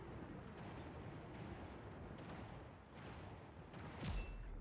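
Chaotic battle din from the mech shooter game Hawken Reborn, a dense, continuous rumble of explosions and gunfire with a sharper blast near the end, steady and loud throughout.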